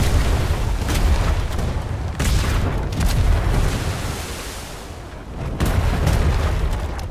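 Ship cannons fire in the naval game ATLAS, heavy low booms rolling one after another over a continuous rumbling din, with a brief lull before another loud volley.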